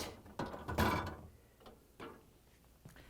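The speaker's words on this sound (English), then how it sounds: "Press in the tab and lift the basket. Now we're going to lift it up and pull it out." LG/Kenmore refrigerator freezer basket being lifted and pulled out, a few sharp plastic clacks and rattles with a louder scrape near the start, then scattered quieter clicks.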